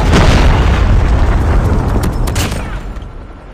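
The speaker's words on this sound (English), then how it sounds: "Friendly predator missile inbound." A predator missile explodes in a shooter video game, a loud, close boom with a deep rumbling body that opens at full force and slowly fades and thins over several seconds.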